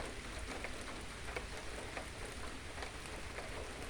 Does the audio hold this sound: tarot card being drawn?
no